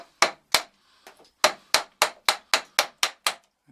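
Wooden mallet striking a chisel to chip out wood for a door lock on a door held in a vise, about ten sharp close knocks, mostly in a steady rhythm after a short pause.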